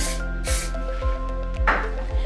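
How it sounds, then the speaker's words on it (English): Two short hissing bursts of hairspray, close by, over a steady low mechanical hum with rhythmic pulses. "I'm gonna go in with my Flex hairspray again and just do a little finishing spray"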